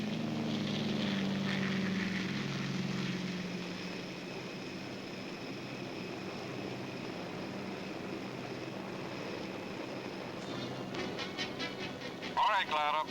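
Propeller-driven tow planes pulling CG-4A gliders through the night sky over Normandy, a steady droning engine roar that fades somewhat after the first few seconds and holds as a continuous hum.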